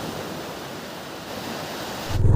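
Sea surf washes onto the sand at Dagara beach in Odisha, heard as a continuous hiss with wind buffeting the mic. A louder low rumble rises at the very end.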